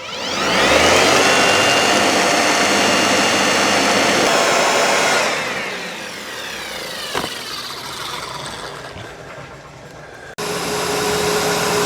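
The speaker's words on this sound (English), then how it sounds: "leaf blower because it's pretty much a constant flow of air" Loud, constant whooshing roar of a battery leaf blower drying a 1972 Super Beetle engine compartment, easing down midway, then a sharp cut and a renewed steady rush near the end.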